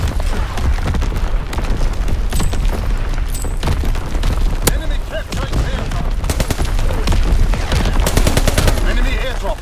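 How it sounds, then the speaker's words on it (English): Heavy booms and rattling gunfire pound through a World War II shooter battle, with repeated loud shell impacts and machine-gun bursts layered densely for about ten seconds. "Incoming enemy artillery."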